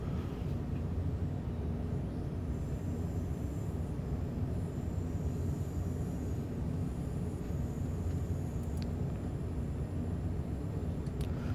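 S-Bahn trains in Köln, including a BR 424, in the video game Train Sim World 4 produce a steady, continuous rumble heard from the end of a platform, with faint higher squeals and clicks, and nobody talking.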